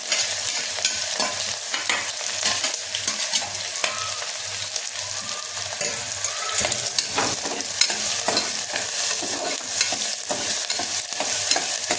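Onion, curry leaves and garlic sizzle steadily in hot oil in a pan, a loud continuous frying hiss with rhythmic stirring scrapes throughout and no voices.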